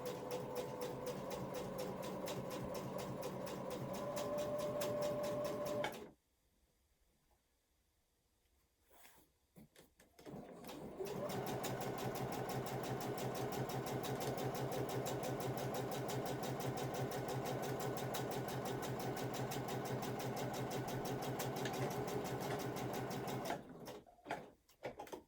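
A sewing machine stitches a Blue Ox Hipster bag in two long, steady, even runs, close and fairly quiet, separated by a few seconds of near silence with faint handling.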